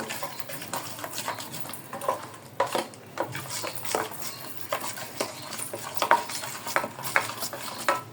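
Wet squelching and clicking as fish is mixed by hand with spices in a bowl, with occasional clinks against the bowl; close and fairly quiet, with an uneven stirring rhythm and no talk.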